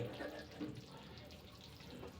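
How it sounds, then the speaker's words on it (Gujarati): Hot water goes into a pan of pearl millet flour halwa, giving a short, steady, fairly quiet pouring rush that fades slightly toward the end. "તે ગરમ પાણી હું અંદર એડ કરું છું"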